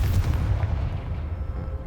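Confringo fire spell explosion in the game Hogwarts Legacy, a loud, continuous low booming rumble that fades slightly over under two seconds, with no talk.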